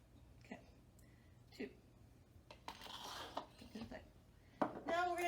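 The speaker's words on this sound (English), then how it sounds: "Take our cooking spoon and we're just going to mix it all together" A cooking spoon clinks and scrapes against a bowl while ingredients for pumpkin fluff are mixed, in scattered knocks that build into busier stirring near the end, with a voice briefly audible.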